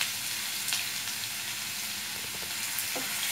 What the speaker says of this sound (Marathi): चांगलं तळून घ्यायचं आहे तेलामध्ये.